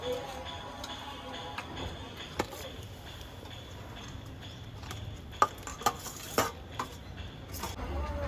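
Dal stirred in a cooking pot, quiet low bubbling with a few sharp spoon knocks and scrapes against the metal near the end, faint and close.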